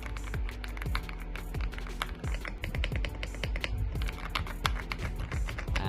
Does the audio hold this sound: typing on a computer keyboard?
yes